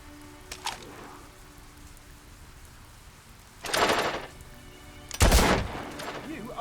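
Gunfire at a shooting range in the video game Fable 2: a faint crack early on, then two louder sharp shots a second or so apart, each ringing briefly over a quiet background.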